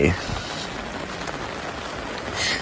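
Steady rain falling throughout a rainy day at a rural home, a dense, continuous hiss of drops on surfaces, fairly close, with a voice briefly audible at the start and the rain swelling slightly near the end.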